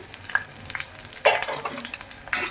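Katla fish frying in a pan over a low flame, a soft sizzle broken by scraping and clinking of a utensil moving against the metal.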